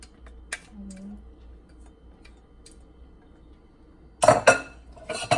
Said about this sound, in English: Get a spatula and make sure we get all the sauce out.